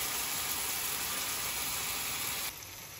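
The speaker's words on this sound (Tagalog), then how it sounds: "Mainit na yung mantika. Pa-fry natin yan hanggang mag-brown both sides." Beef searing in hot oil in a pan, a steady, loud broadband sizzle that holds evenly for most of the time before dropping slightly quieter near the end, with no voices.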